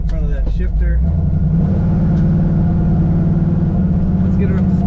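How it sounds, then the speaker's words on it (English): A 1969 Chevrolet Camaro Z28 tribute with an automatic transmission accelerates hard, its steady, loud engine roar building from inside the cabin after a brief rustle, with no talk over it. "Let's get her up to speed. Very good power in this Camaro, up to speed in just a couple seconds."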